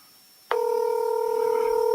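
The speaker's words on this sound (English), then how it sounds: "Let me see if I can get her on the phone today." A telephone line tone starts abruptly after half a second of silence, then holds as a steady, loud dual-pitched hum on an outgoing call, with no voices.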